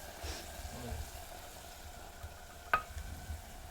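Tomato dropped into a pan of sizzling pigeon pea and brinjal curry: a low steady frying hiss with one sharp clack near the end, while a voice talks over it.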